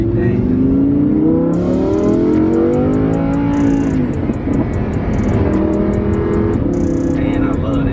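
A Lamborghini Huracan heard from inside the cabin revs up through rising engine tones, then drops pitch with automatic downshifts, loud and close, with repeated electronic chime beeps and a person talking over it.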